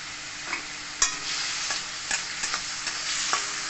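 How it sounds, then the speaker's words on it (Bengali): Spices, chilli powder and chopped tomato sizzle steadily in a pan, with repeated scrapes and knocks from a spatula as the mixture is stirred and fried. "সমস্ত মশলাকে একটু কষিয়ে নেবো।"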